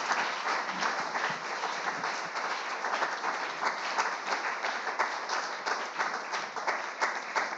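A church congregation claps in sustained, dense applause, steady and fairly near, filling the room without pause.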